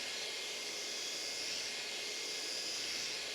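A car polishing machine running under light load, giving a steady, even, hissing whir with no pauses, faint and continuous.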